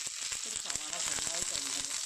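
Ingredients spluttering in hot oil with dried red chillies for carrot thoran: quick crackling pops over a low sizzle, with a faint voice underneath.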